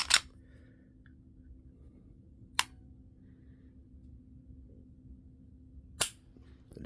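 Dry-fire trigger pulls on a Canik pistol: three sharp, short mechanical clicks spaced a few seconds apart, close and crisp against a quiet room hum, with no speech.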